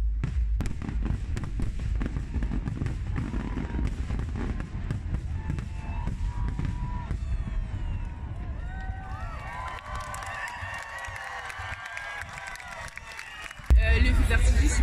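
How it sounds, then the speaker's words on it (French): Canada Day fireworks in Ottawa, a dense run of booms and crackles at a distance under a murmuring, cheering crowd, with a person talking over it. "Le feu d'artifice, il était juste ouf."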